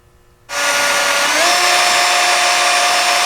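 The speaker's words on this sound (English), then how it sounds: "we first have to drill out these little spot welds holding it on." Power drill boring out spot welds on the stock tabs of a lifted Toyota truck frame, starting abruptly after a quiet moment and then running as a loud, steady high whine close by.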